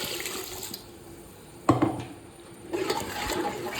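Water is poured into a pineapple curry after the tempering and ground masala are fried in the pan. It makes a close splashing pour with a sudden burst midway and a rushing stream toward the end.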